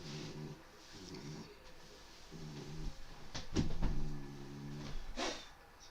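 A dog makes repeated low growling or grunting sounds in short rhythmic bursts, faint and close, over a steady background hum with no talk.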